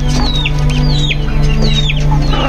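Chickens scuffling and fighting, with loud close clucks and sharp squawking calls over a steady low background hum.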